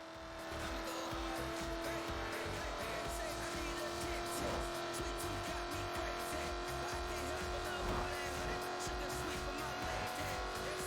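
Jaguar Project 7 sports car in Forza Horizon 4, a steady loud engine drone with sustained tonal whine running throughout, joined by tire noise, with a voice speaking over it.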